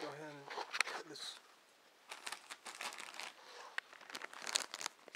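A liner lock knife slices open a package, giving crinkly, crunchy plastic and cardboard sounds in short bursts that come and go, fairly quiet and close.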